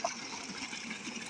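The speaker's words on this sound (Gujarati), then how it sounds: "આ રીતનું પાણીનો અવાજ આવતો હોય ખળખળ" Water gushes steadily through an irrigation channel on a farm field of onion and seedlings, a faint continuous rushing flow with no voices.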